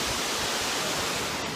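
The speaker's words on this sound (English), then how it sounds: "we're here now on top of the bridge. Looking at the waterfall." A waterfall seen from the top of a bridge at sunset, a loud, dense, unbroken roar of rushing water filling the whole short stretch, with no voices.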